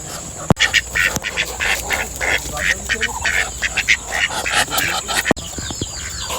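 Repeated nasal quacks from ducks, close and fairly loud, with voices talking over and between them.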